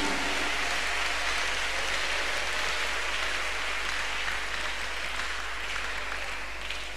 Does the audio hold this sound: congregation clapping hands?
yes